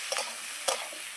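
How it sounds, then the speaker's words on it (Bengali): Cauliflower and potato curry frying in a pan on a rooftop cooking setup, with a few quick stirring scrapes over a steady soft sizzle. "দেখো এখানে ফুলকপি আলুর আর কি তরকারি হচ্ছে।"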